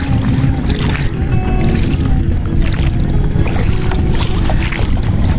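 A small fishing boat on the Halda river, with people fishing from it using hook and line, gives a steady rumble of motor and water noise with splashing and wind, continuous and fairly loud throughout.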